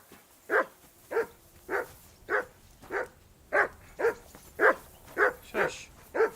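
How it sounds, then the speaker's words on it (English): A dog barks in the medieval role-playing video game Kingdom Come Deliverance 2, giving a run of about eleven evenly spaced single barks. The barks are moderately loud and close, over quiet background noise, with no talk. "I assume you can hear that damn dog of yours barking."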